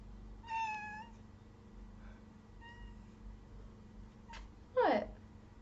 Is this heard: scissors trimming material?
no